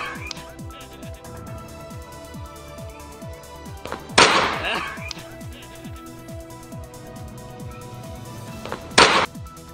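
Celebratory shots fired into the air from a licensed revolver outside a house, two sharp loud bangs several seconds apart amid a steady ticking background and faint voices.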